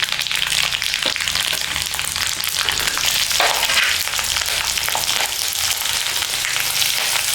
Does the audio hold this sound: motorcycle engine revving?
no